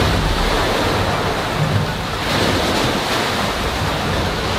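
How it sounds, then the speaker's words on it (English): Ocean waves break and wash continuously outside a sea cave at night, a loud, steady roar of surf with gusts of wind buffeting the microphone and no voices. "As the night progresses, the waves are only gonna get bigger and bigger, and this cave is gonna start filling up."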